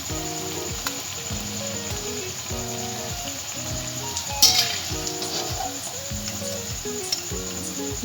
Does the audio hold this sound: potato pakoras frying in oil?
yes